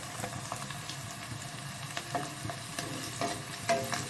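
Food fries in a pan with a close, crackling sizzle while a utensil stirs and scrapes through it in uneven strokes; no talking.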